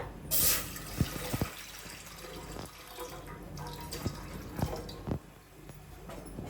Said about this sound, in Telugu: ఇప్పుడు దీనికి నేను ఒక హాఫ్ లీటర్ వాటర్ తీసుకుంటా